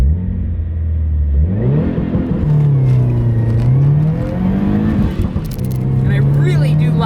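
A twincharged Subaru WRX accelerates hard on a flying hot lap, engine revving up through rising pitch with a gear change and sustained loud drone close to the cabin, a voice speaking briefly over it.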